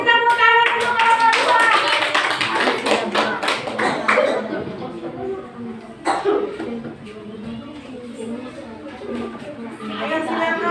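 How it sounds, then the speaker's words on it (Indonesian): Classroom clapping for a student group, a burst of handclaps in the first few seconds that fades, followed by voices and small knocks and shuffles. "kasih tepuk tangan untuk kelompok"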